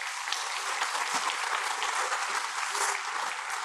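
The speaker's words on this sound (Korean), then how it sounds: "박수 한번 하겠습니다." A church congregation claps during a Sunday worship service, producing a steady, even roar of many hands from start to finish without any break. No voices stand out.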